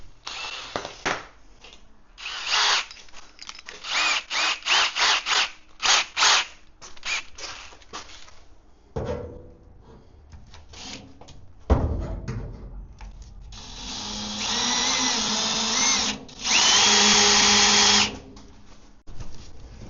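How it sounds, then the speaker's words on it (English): A power drill with a small bit whirs in a quick series of short bursts, then runs in longer sustained stretches, close and fairly loud, with no talking, during a powder coating oven build. "We'll use the smaller drill bit first."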